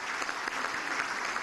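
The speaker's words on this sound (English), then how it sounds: "We have a round of applause for all our new members." A room of guests at a chamber of commerce breakfast gives steady applause for new members, a dense, even patter of many hands clapping throughout without pause.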